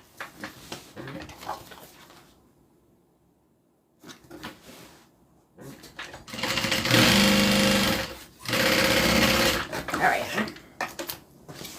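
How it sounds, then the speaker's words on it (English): Sewing machine stitching the sides of a handmade bag to the front in short bursts, a whirring mechanical hum that starts, stops and resumes, growing loudest toward the middle, with faint talk and handling sounds between runs. "now we are going to sew the sides to the front"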